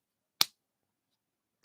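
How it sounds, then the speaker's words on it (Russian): Two sharp hand claps, the right hand striking the flat left palm, about a second and a quarter apart, crisp and close against silence. "делают хлопок, правой рукой ударяют об левую руку, то есть ладонь"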